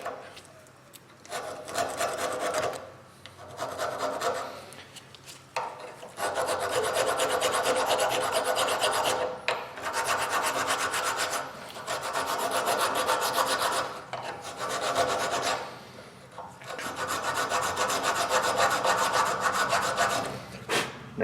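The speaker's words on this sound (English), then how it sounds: "Give me that bastard file." A bastard file rasps in repeated bursts of steady back-and-forth strokes, close and fairly loud, with short pauses between runs.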